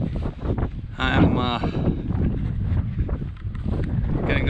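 Wind blows outdoors on a farm, buffeting the microphone with steady rumbling gusts throughout, while a person talks over it.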